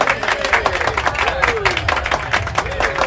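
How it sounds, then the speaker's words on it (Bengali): Audience at a stage show clapping together in loud, dense, continuous applause with some crowd noise, sustained throughout. "যদি ভালো লাগে সবাই মিলে একটা জোরে হাততালি হোক তো"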